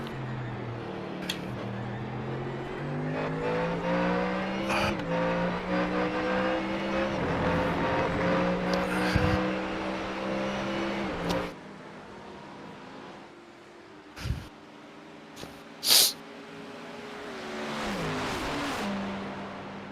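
A Mustang GT3 race car roars through gear changes at the Hockenheimring in a racing sim, the engine rising and dropping in pitch with shifts, then fading to lighter sounds and short bursts.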